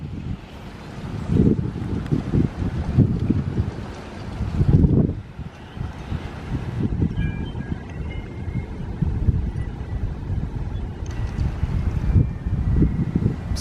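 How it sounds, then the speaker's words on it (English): Gusty wind blows outdoors near a fountain, rumbling against a Canon PowerShot SX730 HS camera microphone in uneven bursts that rise and fall over a steady airy background. "for it to be very windy out here"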